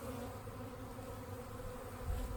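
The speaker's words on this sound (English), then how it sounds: "They keep buzzing my suit, running into my suit, headbutting it, all those awesome things." Angry honeybees swarm around a beekeeper's protective suit, a dense continuous buzz close by with bees bumping into the fabric, steady and loud with no speech.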